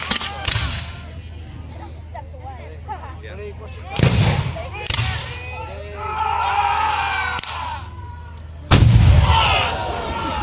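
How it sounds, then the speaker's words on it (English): Cannon firing canister shot at an American Civil War battle reenactment at a canal festival, heard as several sharp, heavy booms with rolling echoes spread across the stretch over steady crowd and field noise. "And there's that canister shell right in among where they want it."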